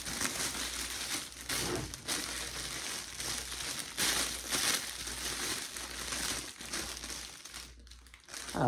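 Cheap wrapping paper being crumpled and crushed by hand, a steady close crinkling and crackling that runs for several seconds with brief pauses.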